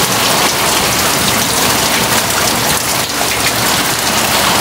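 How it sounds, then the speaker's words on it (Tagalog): Heavy typhoon rain pours down in a loud, steady roar of drops hammering surfaces, continuous and dense throughout with no voices. "Bagyo na naman."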